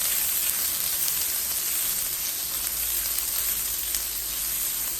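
Raw corn and vegetables sizzle in a hot pan for a warm bulgur wheat salad, a steady, fairly loud frying hiss that runs unbroken throughout with no voices.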